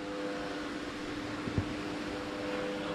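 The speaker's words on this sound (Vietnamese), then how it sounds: "Điều khiển cái quạt luôn." An electric fan, controlled by a remote, runs in a home altar room with a steady, faint whirring hum and airy hiss, broken only by a brief soft click midway.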